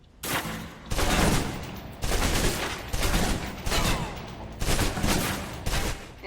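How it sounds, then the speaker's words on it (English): A submachine gun in the spy video game Alpha Protocol fires in repeated sustained bursts, loud and close, with brief gaps between strings of rapid shots until the magazine runs out. "Now, let's move on to the submachine gun. Now let's empty the clip."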